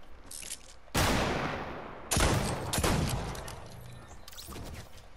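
Old school revolver gunshots in the Fortnite Battle Royale video game, with two loud, sharp reports about a second apart, each trailing into a long echoing decay, followed by a further shot and fainter gunfire in the background.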